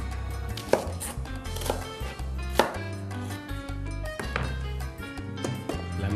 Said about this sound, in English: Just roughly chop up your red onion